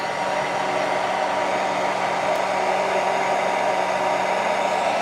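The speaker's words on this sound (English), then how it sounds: "Sorry for the hair dryer noise." An old hair dryer runs continuously at close range, a loud, steady whooshing blower roar with a faint motor hum underneath, unchanging throughout and with no talk over it.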